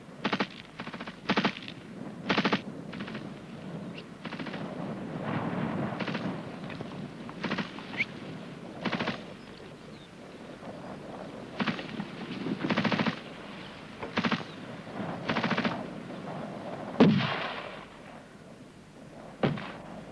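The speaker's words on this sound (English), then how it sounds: "The GPMG will fire onto the objective as long as possible, switching to beyond it as the rifle group makes its assault." A GPMG machine gun and rifles fire during a section attack exercise, repeated loud bursts and single shots in an irregular, ongoing rhythm, echoing outdoors across twenty seconds with no talking.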